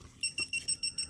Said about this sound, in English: that's the alarm, so you can't get nicked